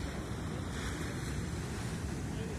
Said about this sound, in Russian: Вот оно, волнение какое сегодня у нас.